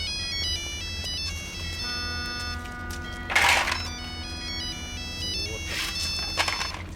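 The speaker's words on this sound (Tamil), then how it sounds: "இந்த சேகர் ஃபோன் பண்ணி அவன் உயிரை எடுக்கிறான்டா" A mobile phone ringtone for an incoming call plays a steady electronic melody of sustained tones through the whole stretch, fairly loud, with brief noisy bursts over it.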